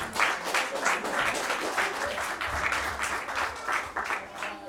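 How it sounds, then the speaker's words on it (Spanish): A church congregation breaks into loud, sustained applause, dense clapping that rolls on steadily from start to finish with a few voices faintly mixed in. "Denle un aplauso fuerte al Señor."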